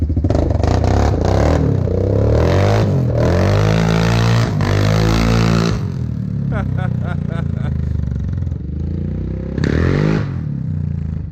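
A Yamaha Grizzly 770 ATV engine revs hard and loud close by, with bursts and drops in pitch, after a coolant hose repair. Voices talk over parts of it.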